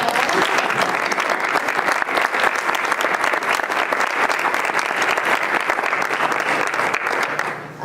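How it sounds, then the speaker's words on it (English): A school board candidates forum audience in Itasca School District 10 applauds, producing loud, dense, steady clapping that carries evenly through the whole stretch without a break. "I think we should give our candidates a big round of applause."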